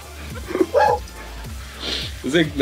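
A voice imitates a dog barking with a series of short, yappy bark-like yelps in an online game voice chat, loud and close.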